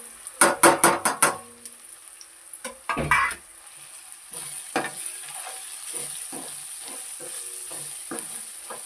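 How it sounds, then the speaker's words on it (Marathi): Spices frying in oil in a pan for misal, with a soft sizzle behind sharp clinks of a spoon against the pot and stirring scrapes, close and alone. "तेलात मसाला भाजला ना की छान वास येतो."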